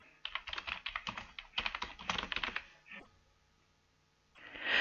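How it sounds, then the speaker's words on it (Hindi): Typing on a computer keyboard to enter a search for email gift cards on Amazon, with two quick bursts of clicking keystrokes followed by a short pause, then a brief soft rustle, with no talk. "आप चाहें तो इस सर्च बॉक्स पर टाइप करें ईमेल गिफ्ट कार्ड"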